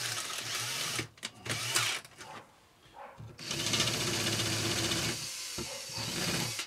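Power drill countersinking holes in wood for a homemade sewing thread rack, bursts of whirring motor and bit grinding into timber, broken by short pauses, then a longer sustained run close by.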